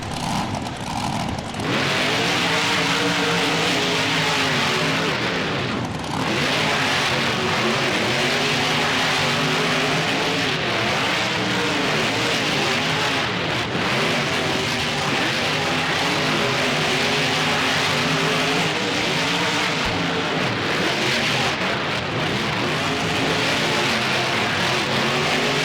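Monster truck engines in a BeamNG race at a fairground track, loud continuous revving and roaring that rises and falls steadily without pause, with no voices.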